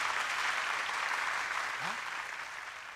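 A church congregation at a Batak HKBP youth worship service applauds Pastor Roy, a thick continuous roar of many hands clapping that fades slightly toward the end.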